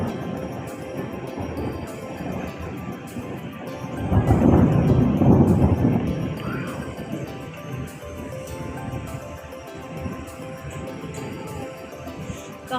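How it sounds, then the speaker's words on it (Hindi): Loud thunder rumbles during a sudden rainstorm, swelling into a heavy, deep roll midway before fading back under the steady hiss of falling rain, with no voices. "इतनी तेज बिजली कड़क रही है"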